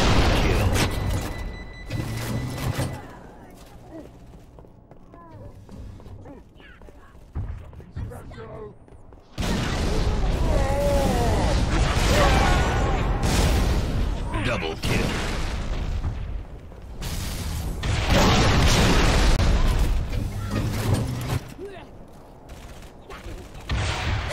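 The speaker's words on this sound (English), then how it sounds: "Weapons fire!" Weapons fire and explosions from Halo ODST Firefight come in loud, dense bursts of gunfire and booming blasts, with quieter gaps between them and voices over the action.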